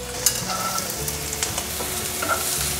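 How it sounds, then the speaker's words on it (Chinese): Carrots stir-fried in a wok with a little oil alongside vegetarian mushroom pieces, giving a steady close sizzle with scraping stirs and a few sharp clinks of the spatula against the metal. "把红萝卜炒一炒"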